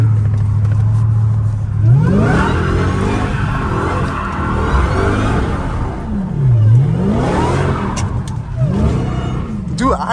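A Dodge Hellcat Redeye's engine revs loudly and repeatedly while the car drifts through corners, pitch rising and falling in sweeping waves close by, with constant road and cabin noise.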